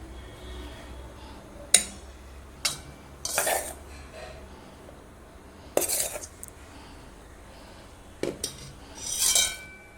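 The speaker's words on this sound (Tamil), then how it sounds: "ஃப்ளார் பார்த்திங்கன்னா கொஞ்சம் கொஞ்சமாக சேர்த்து மெதுவாக மிக்ஸ் பண்ணி விடுங்க." A utensil mixes flour little by little into eggless chocolate cake batter in a bowl, giving a few sparse clinks and short scraping strokes against a quiet background.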